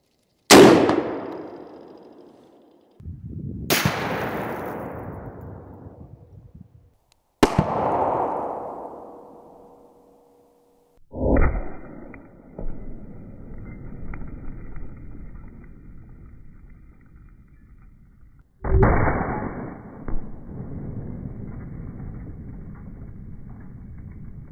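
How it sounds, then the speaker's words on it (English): Five .50 BMG armor-piercing rifle shots are fired at two layers of Humvee ballistic windshield glass, each a sharp, loud crack with a ringing decay, spaced several seconds apart outdoors. "let's see if this 50 BMG AP will penetrate the two layers of Humvee glass"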